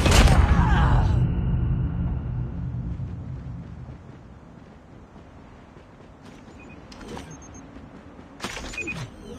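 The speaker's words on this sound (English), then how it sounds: "Flashbang!" A flashbang grenade detonates in Call of Duty Mobile with a loud, close bang right at the start. It decays into a muffled, rumbling wash, followed later by a few brief sharp clicks.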